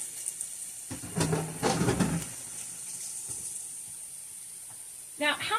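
Sliced onions and bell peppers hit a pan heated over medium heat, giving bursts of sizzling with clatter as they are added, then a softer steady fry.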